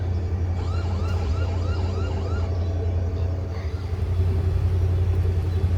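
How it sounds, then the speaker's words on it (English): Emergency vehicle sirens wail with a rising and falling pattern over a heavy, steady engine rumble, the siren fading as traffic passes by. "I like those sirens."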